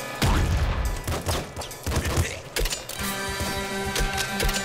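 Shotgun blasts and gunfire in the top-down shooter Nuclear Throne, fired by a character with a shotgun built into his body; loud overlapping bursts mixed with mechanical clanks and game music, no talk.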